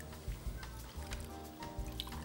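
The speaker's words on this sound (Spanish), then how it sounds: "Si hemos puesto dos vasos de arroz, vamos a poner cinco vasos de agua." Water poured from a glass into a casserole of rice with vegetables, giving a steady close splashing and trickling for a couple of seconds.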